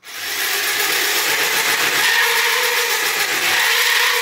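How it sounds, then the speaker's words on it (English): A power drill bores a hole in the hull of a homemade submarine. The grinding whine is loud and continuous, close by, with no talk. "I've located where I have to drill the hole for the drop weight mechanism that I made."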